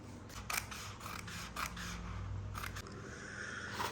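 Scissors snip through taffeta fabric for a sewing project on a document holder bag, several crisp short cuts and scraping strokes sounding close and fairly quiet with no talking.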